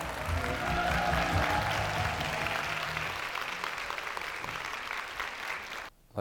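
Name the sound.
audience applause welcoming professor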